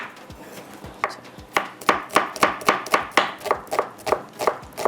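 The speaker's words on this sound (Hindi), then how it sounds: "इसको हम बारीक बारीक चॉप कर लेते हैं" An onion being finely chopped with a knife on a board, a few slow cuts then a steady run of quick, evenly spaced thuds, close and distinct.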